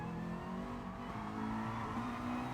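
Race car engine in Gran Turismo Sport revving steadily at high pitch, with a slight rise and dip around a gear shift, loud and continuous with no talking over it.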